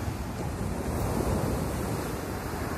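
Heavy surf pounds a stormy Antalya beach in rain, a steady loud roar of breaking sea waves with gusty wind buffeting the microphone throughout, no voices.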